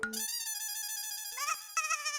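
A phone ringtone plays as an outgoing call is placed, a bright steady electronic melody with repeating tonal notes that sounds close and alone. The tone shifts pitch a couple of times near the end.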